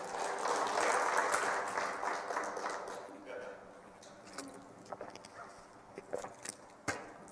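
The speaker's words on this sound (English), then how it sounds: "Clap, please." A church congregation claps during a sermon, a broad wash of applause that is strongest at first and then thins out, leaving only scattered faint knocks and rustles.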